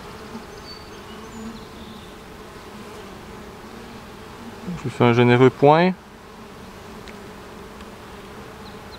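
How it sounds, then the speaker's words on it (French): Many bees hum in a low, steady drone near a hive, with a voice speaking briefly partway through. "Tasse-toi, petite abeille."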